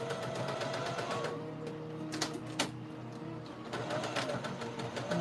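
A sewing machine stitches fabric while a doll is being sewn, running in steady rapid mechanical bursts with brief pauses and faint clicks, close and moderately loud, with no talk.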